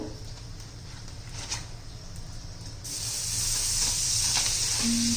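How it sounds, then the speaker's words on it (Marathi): Butter goes into a hot kadhai for butter garlic chicken and sizzles, a soft hiss that swells into a louder, steady frying crackle partway through, with no talk. "आता आपण बटर घालून घेऊ"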